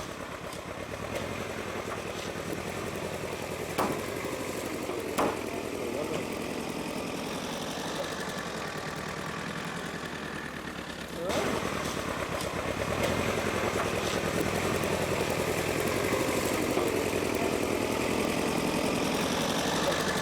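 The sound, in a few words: tractor engine running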